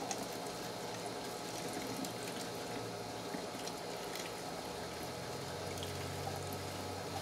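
A liquid chemical is poured steadily into a container for a green fire experiment, giving a continuous splashing, trickling wash at close range with no talking.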